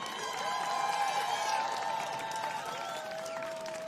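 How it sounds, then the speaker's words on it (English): Audience at an outdoor accordion festival claps and cheers in a steady, moderately distant wash of applause, a faint ringing tone lingering above it. "Let's give a round of applause again for Cinco de Sa."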